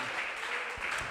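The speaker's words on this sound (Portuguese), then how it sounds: "Aplauda o nome dele, fique de pé." A church congregation applauds during a praise and worship service, a dense steady patter of clapping hands filling the room for the whole moment.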